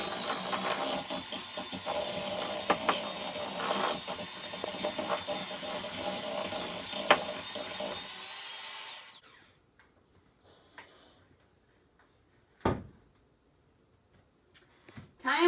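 An electric mixer whirs loudly through ginger cookie dough for about eight seconds, a steady motor drone with scraping, then cuts off, leaving quiet with a couple of brief knocks and rustles.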